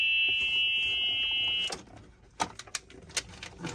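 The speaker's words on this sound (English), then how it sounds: "Put it in reverse. Let's see. You can hear the buzzer." A golf cart's steady electronic reverse buzzer drones for under two seconds, then cuts off, followed by several sharp clicks and clunks.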